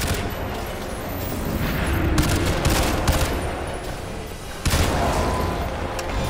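Gunfire in the video game Crysis 2, dense continuous bursts of shooting with several sharper cracks and a booming hit near the end, loud and close.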